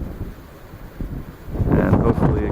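Gusty wind at a Pennsylvania trout creek buffets the microphone in low rumbling bursts, building stronger in the second half of the short stretch.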